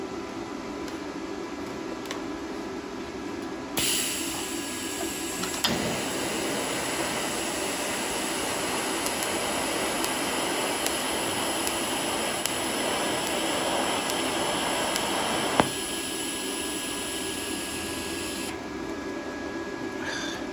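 A TIG welding pass on steel with a 1/16 filler rod gives a steady, even electrical hiss and buzz that starts abruptly, holds for about fifteen seconds with faint crackles, then cuts off, close and alone.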